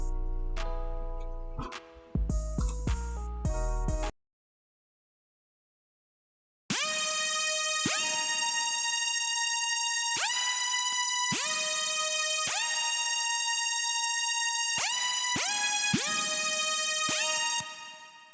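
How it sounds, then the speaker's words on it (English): A bright, brassy trumpet-like synth tone plays sustained chords and short stabs after a brief pause, loud and alone with no voices. "the final instrument is the trumpet type sound you hear in the background"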